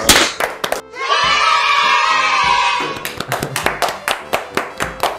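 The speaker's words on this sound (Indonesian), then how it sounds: "Tepuk tangan dulu dong." A short burst of clapping and cheering from a small group lasts a couple of seconds, then trails off into scattered sharp taps.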